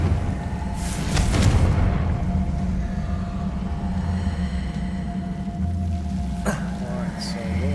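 A Confringo fire-blast spell explodes in Hogwarts Legacy with a sharp burst and a fading rumble, while a voice can be heard over the game sound.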